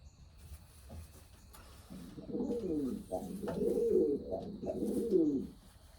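Racing pigeons coo close by in soft, low, rolling calls that repeat several times and build in loudness, with faint background noise and no talk.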